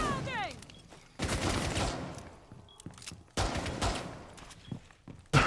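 Video game gunfire comes in sharp bursts of shots with short quiet gaps between them, heard close and loud, with some footsteps and game radio chatter mixed in.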